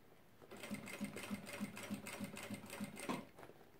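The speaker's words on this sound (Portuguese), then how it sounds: "Vou começar passando uma costura aqui nessa ponta. Meio pé de máquina, ou seja, a costura bem na borda mesmo." A sewing machine runs a seam right along the edge of the fabric with a half-foot allowance while making an organizer. It gives a steady, close, rhythmic chatter of stitches, about three per second, with no talking.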